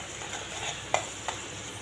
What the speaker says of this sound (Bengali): ভালো করে পেঁয়াজ রসুন বাটা কষিয়ে নেব।